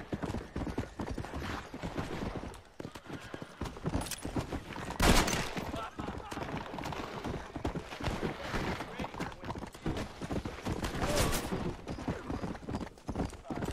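A dense stretch of sound from the Red Dead Redemption video game, with rapid horse hoofbeats and scattered bursts of gunfire in a town shootout. A voice speaks over the mix.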